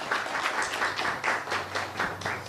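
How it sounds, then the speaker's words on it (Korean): Audience applause fills a Korean Christian humanities forum hall as a seminary theology professor comes out, steady dense clapping with a low hum beneath, no voices. "교수님 나오실 때 큰 박수로 맞이하겠습니다."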